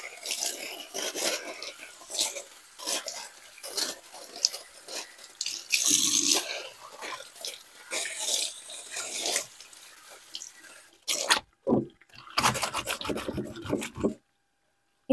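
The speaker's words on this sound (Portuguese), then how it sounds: "Vou molhar, passar sabão e pôr no saquinho." Wet stained shirts being scrubbed by hand with a bar of laundry soap, giving repeated rasping rubs with splashes of water, close and fairly loud, ending with a few sharp bursts and then near-silence.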